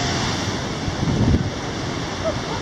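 Rough, windy surf with a surging rush of water rising briefly in the middle as waves fill rock blowholes, heard outdoors close to the microphone.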